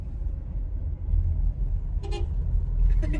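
A brief car horn toot sounds once over steady road and traffic rumble, followed by faint further honks near the end.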